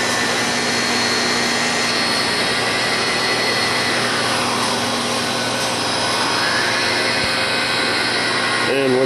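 A Wit-O-Matic 500 insert honing machine runs its grind cycle with a brush swung over the inserts, a loud, steady whirring drone with a slowly sweeping tone, heard close and running throughout.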